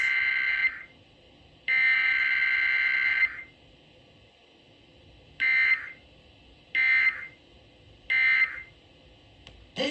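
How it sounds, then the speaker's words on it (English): Emergency Alert System test tone broadcast on KDKA radio: a loud, steady two-tone alert sounding in bursts, first long, then several shorter beeps separated by brief quiet gaps. "This station is testing its emergency alert system equipment."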